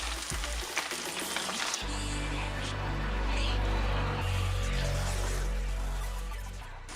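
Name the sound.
chicken frying in refined oil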